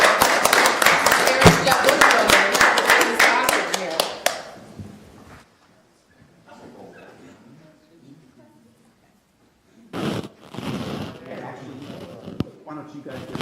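Loud applause breaks out at a Centreville town council meeting to honor someone being recognized, with dense clapping for about four seconds that fades out, followed by quieter room noise and people talking.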